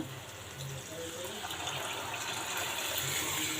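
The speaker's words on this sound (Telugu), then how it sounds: "ఇప్పుడు వాటర్ వేసుకుందాము గ్రేవీకి సరిపడా" Water pours steadily into a pan of dried fish and brinjal curry, a continuous rushing splash lasting the whole stretch at moderate, even loudness, with no talking.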